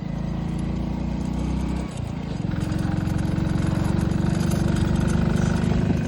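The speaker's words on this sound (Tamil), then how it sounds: "பாருங்க, இன்ஜின் சவுண்டே மாறிடுச்சு." An engine drones loudly and continuously nearby; its tone shifts noticeably about two seconds in, then keeps running steady and rough.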